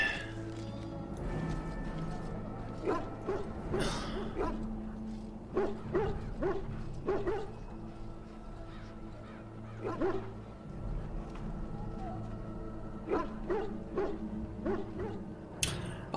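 A dog in Dragon Age: Origins lets out a series of short, separate barks and yips spread irregularly across the scene, set over quiet game ambience and faint background music.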